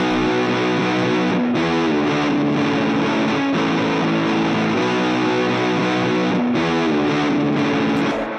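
Distorted electric guitar plays sustained chords and riffs, loud and continuous, with a brief break partway through before the tone returns slightly altered by a notch filter.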